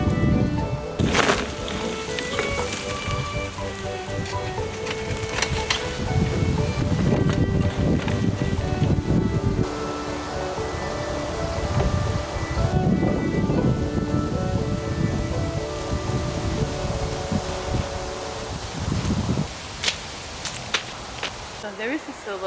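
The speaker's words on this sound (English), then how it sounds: "my big poplar tree with its million rustling leaves in the wind is being picked up by my microphone" Wind rustles through the countless leaves of a big poplar tree in a garden, a continuous, dense wash of rushing, crackling noise with gusty swells over the whole stretch.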